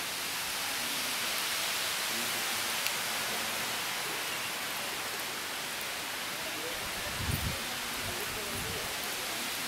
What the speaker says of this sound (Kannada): ಕಾರಿಲ್ಲಿ ತುಂಬಾ ಜೋರಾಗಿ ಮಳೆ ಬರ್ತಾ ಇದೆ